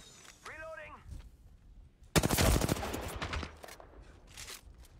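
Rapid gunfire in a ranked match of a shooter video game, a dense burst of loud shots after a quieter stretch, with a voice speaking over it.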